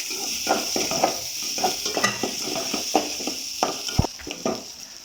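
Onions sauté with salt in a pan for vatha kuzhambu, a soft sizzle broken by repeated spoon scrapes and stirs, with one sharper knock near the end.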